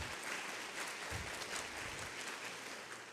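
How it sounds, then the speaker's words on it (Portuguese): A church congregation claps together in a steady, dense wash of applause, faint and distant, with no talking over it. "Pode aplaudir Jesus, pode aplaudir Jesus."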